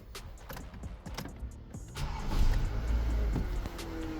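A 2021 Renault Captur is started, with soft cabin clicks giving way to the engine catching and settling into a low, steady idle heard from inside the car.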